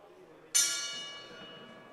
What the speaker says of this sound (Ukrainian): Гонг прозвучав